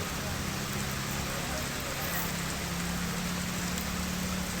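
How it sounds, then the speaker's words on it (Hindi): Rain falling in Rajasthan, a steady broadband hiss of rainfall filling the whole clip at moderate level with no break. "हल्की बारिश तो कहीं तेज फुहारे देखने को मिले हैं।"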